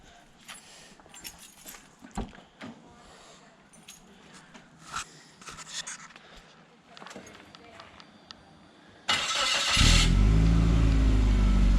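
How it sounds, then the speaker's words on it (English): A turbocharged Suzuki Vitara with a 4-inch exhaust starts up after about nine seconds of quiet shuffling and handling noises, then settles into a loud, steady, close idle that continues to the end. "Alright, start it up. I want to hear it."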